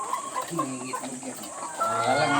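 Forty-five-day-old chickens cluck in a run of short, close calls, with clucking bursts scattered across the stretch and soft background hiss behind them.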